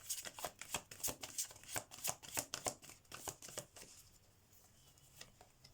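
Tarot deck being shuffled by hand, a quick run of soft, close riffling flicks in an uneven rhythm for several seconds, then tapering to quiet handling as cards are drawn.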